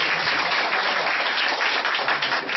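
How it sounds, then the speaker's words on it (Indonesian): A church congregation breaks into dense, continuous clapping, loud and close, sustained evenly across the short stretch with no speech over it. "Tepuk tangan bagi Tuhan."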